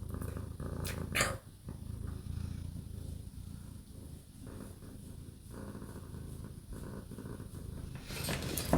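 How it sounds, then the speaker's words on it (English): A cat purrs in a steady, low, continuous rumble close to the microphone, quiet and unbroken, with no voices. "She just yawned and while she was purring."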